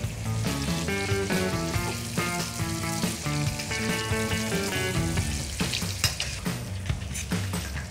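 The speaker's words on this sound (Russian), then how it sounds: "Теперь мы будем жарить наши каштаны во фритюре." Steady, dense sizzling of chestnuts deep-frying in hot oil, continuous and close, with no voices.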